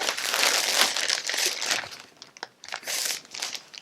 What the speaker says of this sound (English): you could put it in a plastic bag now to contain that heat